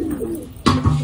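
A pure desi pigeon coos close by, a soft low murmur that swells into a fuller throaty coo near the end, with no voices.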